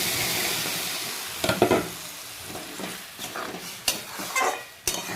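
Ginger fries in oil before tomato paste goes in for tomato chutney, giving a loud, steady sizzle. Sharp spoon knocks and stirring scrapes against the pan break through it every second or so.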